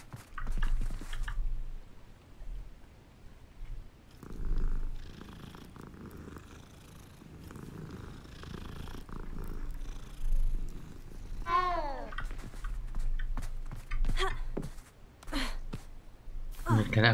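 A cat purring in Hogwarts Legacy at night near the Forbidden Forest: a low, steady rumble running under ambient game sounds and occasional voices, with brief chirpy effects midway.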